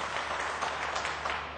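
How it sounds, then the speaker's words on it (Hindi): A studio audience claps during a live Indian election-night TV interview with Smriti Irani. The applause is a soft, diffuse patter of many hands, somewhat distant and fading slightly toward the end. "देखिए नरेंद्र भाई का नाम लेते ही तालियां बज रही है"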